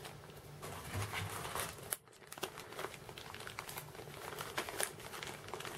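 Small plastic bags holding Hobby Boss T-26 Model 1933 tank kit track links and parts crinkle and rustle close by, a quiet irregular crackling with brief sharp handling clicks and one short pause, with no voices.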